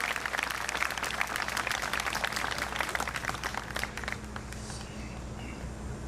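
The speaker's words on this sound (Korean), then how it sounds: "박수 한번 보내주시기 바랍니다" Audience at a power-sector labor union rally applauding, a dense sustained clapping that fills the room, then thins and fades in the final seconds.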